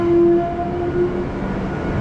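A Tejas Express train travelling from Chennai to Madurai rumbles steadily from close by, with a brief horn-like tone riding over the continuous running noise of the carriages.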